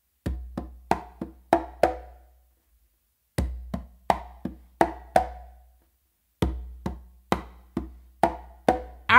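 Songo pattern on two congas, three phrases of sharp open tones and slaps in a steady syncopated rhythm, close and clear, with short silent gaps between phrases.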